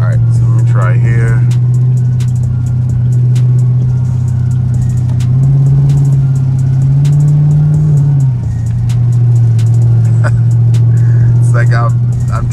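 Chevrolet Camaro ZL1 driven in the rain, its engine a steady loud low drone that swells briefly mid-way as the throttle opens, then settles back, with a voice talking over it.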